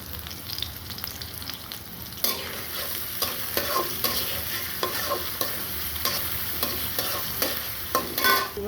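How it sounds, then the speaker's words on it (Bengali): Onions fry in oil for a tempering, a continuous close sizzle with repeated spatula scrapes and stirring clatters, growing busier after a couple of seconds, with no voices. "এখানে তেল দিয়েছি পেঁয়াজ দিব দিয়েছি কিছু পেঁয়াজ"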